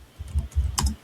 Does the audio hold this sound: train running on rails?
no